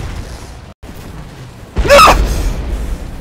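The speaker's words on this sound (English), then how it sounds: "Oh, grenades, grenade!" Grenade blast in the Titanfall video game: a sudden loud boom bursts in after a moment of quiet and fades over about a second, with no talk over it.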